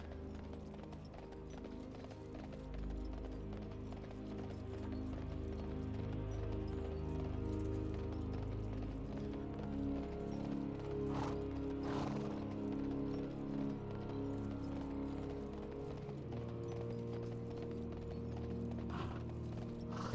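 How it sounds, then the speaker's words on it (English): Horse mount in World of Warcraft trotting along, steady rhythmic clip-clop of hooves over faint game ambience and mechanical clicks, moderately quiet and continuous throughout. "He's on a horde horse."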